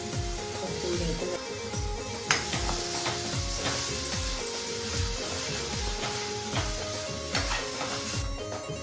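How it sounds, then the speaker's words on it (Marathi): Ground coconut, ginger, garlic and Agri masala paste sautéed in a pan for a prawn curry, a close continuous sizzle with rhythmic scraping strokes of a spatula and a low bubbling undertone. "वाटण पण टाकून द्यायचं, परतून घ्यायचं."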